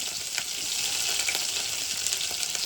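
Onion and cumin seeds frying in a pan give a steady, close, dense sizzle with faint crackles throughout and no voices.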